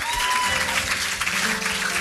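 An audience at a 2018 interactive session in Ghana breaks into dense, steady applause that holds at an even loudness for about two seconds.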